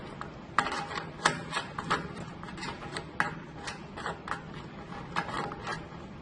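Quiet, close clicks and small plastic scrapes come at irregular intervals as a pneumatic fitting is twisted by hand and tightened onto its line.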